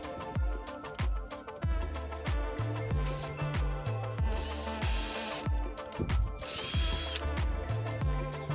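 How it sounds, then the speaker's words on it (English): A power drill drives screws to join wooden boards for a modern wood planter, with repeated short whirring bursts over a steady rhythmic thumping background. "Here is where you will screw the boards together."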